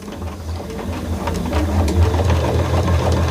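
Home sewing machine stitching fabric, giving a rapid mechanical whir and patter that builds steadily louder and stays close and clear, with no talking.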